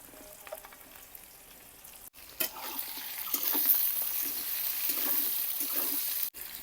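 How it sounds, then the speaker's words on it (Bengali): Onion and garlic fry in hot oil, a steady close sizzle that jumps louder after a brief cut and stays crackling with occasional stirring scrapes. "পেঁয়াজ রসুনটা ভালোভাবে ভাজা হয়ে গেছে"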